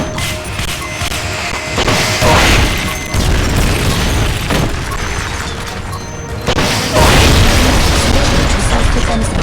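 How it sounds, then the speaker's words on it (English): Rocket launcher fire and repeated heavy explosions in the video game Metal Gear Solid Peace Walker, a loud, dense barrage of booms and crashing blasts that swell in waves, with game voices talking over it. "Firing rocket launcher."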